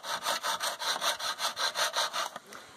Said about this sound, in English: And then I'm just going to gently start sawing.